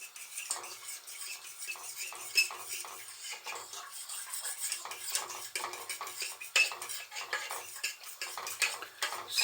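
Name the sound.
stirring custard over rhubarb in a pan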